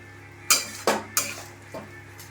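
A metal spoon scrapes and knocks against a pan while prawn curry spices with Kashmiri chilli powder are sautéed, four distinct clanks over a faint low sizzle, close and fairly quiet.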